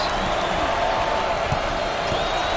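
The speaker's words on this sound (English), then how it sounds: "Listen to the crowd." Arena crowd noise from an NCAA college basketball video game, a steady roar of murmuring spectators with a few faint sneaker or ball thumps, loud and continuous throughout.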